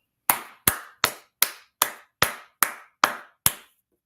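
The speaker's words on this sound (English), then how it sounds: "So everybody, let's clap it up" Nine sharp claps ring out one by one in an even, unhurried rhythm, each clean and distinct against silence, as a crowd at an Israelite School of Universal Practical Knowledge gathering is asked to clap.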